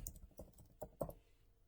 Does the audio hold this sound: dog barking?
no